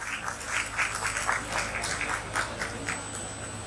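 Audience applauding at a school Teacher's Day celebration, steady moderately loud clapping from a crowd that holds for several seconds without a break.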